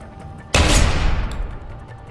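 Gunfire erupts in the video game Deus Ex: Human Revolution, a loud sudden burst of shots or explosion that cuts in abruptly and then rings out and decays over about a second and a half.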